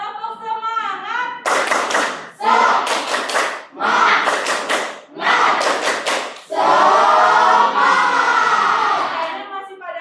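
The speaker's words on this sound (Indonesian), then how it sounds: "Oke, tepuk semangat." A standing classroom group of primary school students and a teacher performs a rhythmic spirit clap: four bursts of fast, loud group clapping separated by short pauses, with voices chanting along and a longer cheering stretch at the end.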